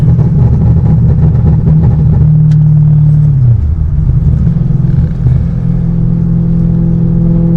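Supercharged car with an aftermarket tune and VF Engineering supercharger cruising just under 3,000 rpm at about 70 mph, a steady low engine drone and road rumble that eases slightly in pitch partway through.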